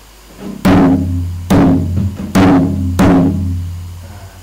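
Four sharp kendang hand-drum strokes land one after another, each a loud slap with a booming low ring that fades before the next hit.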